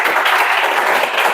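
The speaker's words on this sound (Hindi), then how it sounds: "चला जोरदार ताली बताओ" A classroom of students in a Chhattisgarh police recruitment coaching class applauds loudly in a dense, steady burst of many hands clapping at once, with no gaps in the sound.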